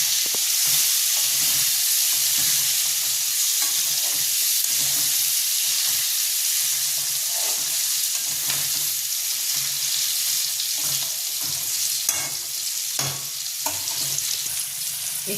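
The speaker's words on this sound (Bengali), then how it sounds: "পেঁয়াজ দিয়ে একটু ভালো করে ভাজবো।" Onions frying in a pan for a potato curry, a steady loud sizzle throughout with occasional stirring scrapes and no voices.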